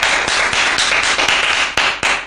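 An audience clapping at a live Hindi-language stage programme, a dense, steady wash of applause with a few sharper claps standing out, loud and close.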